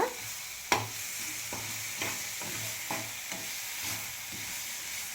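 Peppercorns and fenugreek seeds fry in a pan for a Karnataka-style garlic rasam, a soft continuous sizzle broken by a sharp scrape near the start and a steady series of quieter stirring scrapes, with no voices.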